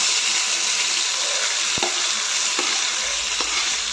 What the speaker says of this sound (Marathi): हे सर्व चांगले तेल सुटेपर्यंत परतून घ्यायचं आहे